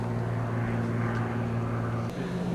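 A small ski plane's propeller engine drones steadily at a remote airstrip, a constant low humming tone with a slight shift in pitch near the end, heard from moderate distance.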